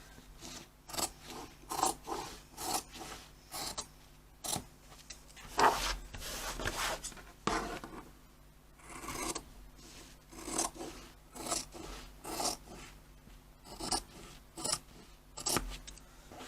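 Scissors cut through fabric for a carry cot in a steady run of close, crisp snips and rasping strokes, repeating about once a second for over fifteen seconds.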